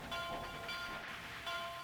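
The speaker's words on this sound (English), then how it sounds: "So we've got our express train making its way across." An express steam train runs on rails in a train video game, a faint, steady rolling rumble with soft rhythmic clicks and faint high tones, alone with no talk.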